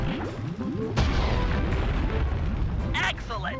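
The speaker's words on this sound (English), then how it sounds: "That explosive had some kick." Bomb blast in Sly 3 that takes out guards, a deep rumbling explosion with a sharp boom near the one-second mark and rolling debris, with game sound effects and voices mixed over it.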